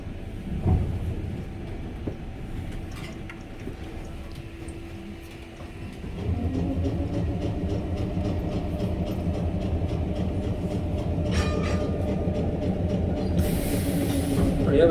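A city tram rolls along its rails into a stop, a low steady rumble that swells and holds after a quieter stretch, with faint rhythmic clicks of wheels over rail joints and a brief high squeal near the end.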